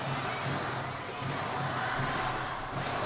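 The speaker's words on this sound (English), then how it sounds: "A chant goes up from both camps, Chinese and the Koreans." Chinese and Korean fans chant together at a badminton match, a dense, steady roar of crowd voices from a large arena filling the whole stretch without a break.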